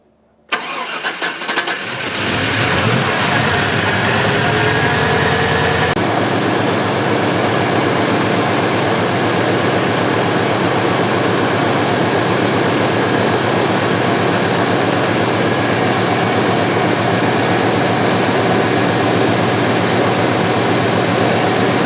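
A Chevy Vortec 7.4L V8, freshly fitted with new spark plugs, cranks and catches after a brief starter whir, then settles into a loud, steady, even idle that continues uninterrupted.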